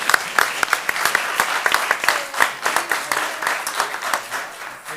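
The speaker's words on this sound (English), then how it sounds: "How about a nice round of applause for these young ladies and gentlemen?" Audience applause for young award winners at a township committee meeting: many hands clapping in a lively, uneven rhythm with sharp individual claps standing out close by, a faint voice briefly audible.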